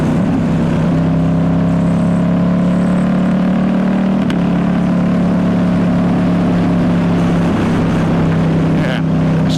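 A 2019 Ducati Diavel S fitted with a full Termi exhaust, ridden on the road, gives a loud, steady engine drone mixed with wind rush throughout.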